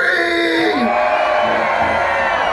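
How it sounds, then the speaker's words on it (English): A festival crowd at MIA 2014 screams and whoops loudly together in one sustained, dense roar of many voices, with a bellowing shout rising above it at the start. "Everybody in the middle scream. Now everybody scream!"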